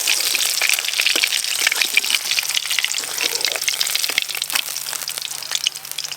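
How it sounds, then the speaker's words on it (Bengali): Rui fish frying in hot oil for a large wedding-style cooking batch, a loud, steady crackling sizzle with dense bright pops throughout, close and continuous with no talk. "এই মাছগুলো ভাজা হয়ে গেছে"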